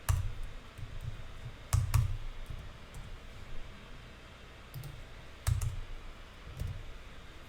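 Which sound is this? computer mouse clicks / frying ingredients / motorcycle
computer mouse clicks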